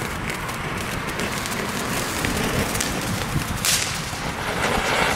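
A powerfontein firework fountain burns with dense, steady crackling and hissing for the whole stretch. The noise is continuous and fairly loud, with brief brighter bursts and no talk.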